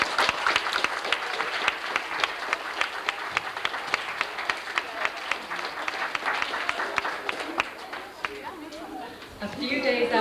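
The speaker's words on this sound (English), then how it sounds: "We'd like to give you a round of applause as well." An indoor audience claps for students' parents at a school award ceremony, dense sustained applause throughout, with some crowd chatter rising near the end.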